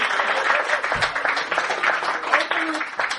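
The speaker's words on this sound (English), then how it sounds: "as the rest of the audience applauds" A live podcast audience applauding during a stage magic bit, a steady wash of clapping from the crowd throughout, with a voice speaking over it.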